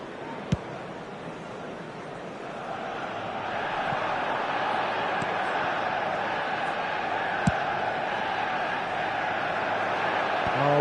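A stadium crowd in eFootball 2026 roars after a near goal, a broad swelling cheer that builds and holds steady, with a few sharp clicks on top.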